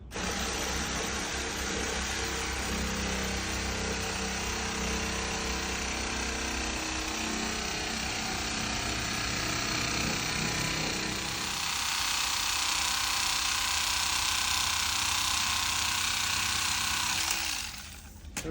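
Knife slicing through a thick foam cushion block for a self-built camper, a steady loud grinding buzz running continuously for most of the clip before cutting off near the end.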